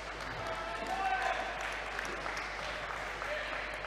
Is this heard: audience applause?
yes